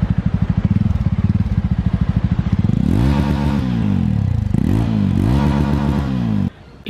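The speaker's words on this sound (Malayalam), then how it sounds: "എക്സോസ് നോട്ട് എനിക്കിഷ്ടപ്പെട്ടൊരു കാര്യമാണ് ഇതിൻ്റെ എക്സോസ് നോട്ട്." A Jawa 42 four-stroke motorcycle engine idles with a steady, rapid bass-heavy exhaust thump, then revs up through several rising and falling throttle blips, loud and close, before cutting off abruptly near the end.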